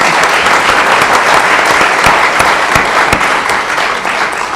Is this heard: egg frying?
no